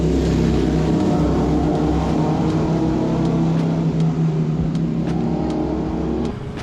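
A motorbike on a Saigon street rumbles close and loud with a steady engine drone that holds throughout, then drops slightly in level at the very end.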